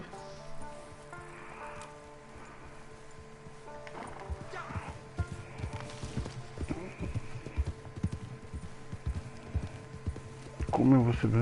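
Horse hooves clip-clop steadily through a ride in Red Dead Redemption 2 online on PS4, a moderate rhythmic patter over game ambience and music, with a louder burst near the end.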